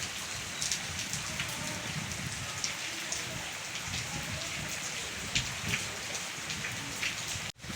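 Steady rain falls and patters on surfaces all around on a farm, a dense, even hiss with scattered louder drops, close by.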